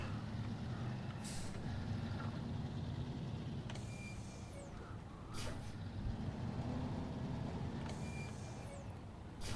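A heavy truck in the off-road driving game SnowRunner, its engine rumbling steadily as it turns around, with several sharp air-brake hisses and faint mechanical clicks and beeps, and no talking.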